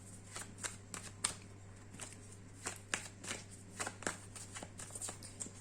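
Oracle cards are shuffled by hand in a series of soft, close riffles and flicks, irregularly spaced over a steady low hum.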